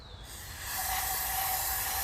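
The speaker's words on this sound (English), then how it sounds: "Look at how fast that brake clean is coming out of there." Brake cleaner sprayed into the exhaust ports of a 2017 ZR 9000 Turbo motorcycle with low compression, a steady loud hiss that builds after a brief quieter start and then holds continuously, close up.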